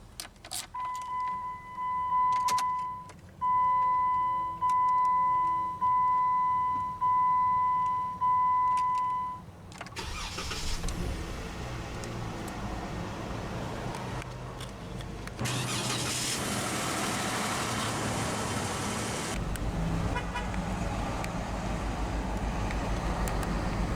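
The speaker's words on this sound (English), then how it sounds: "let's go ahead and start the engine." A 2014 Jeep Wrangler Sport starts after a series of chime beeps, then the engine cranks, catches and settles into a steady idle whose hum rises a little louder partway through, with no talking.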